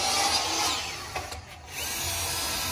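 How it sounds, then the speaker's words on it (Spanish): Power drill driving stainless steel screws into wood boards on a steel-and-wood patio door build, a steady whirring grind that briefly drops out near the middle before resuming, close and fairly loud. "Se están usando ese tipo de tornillos de acero inoxidable"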